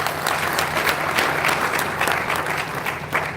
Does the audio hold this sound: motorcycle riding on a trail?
no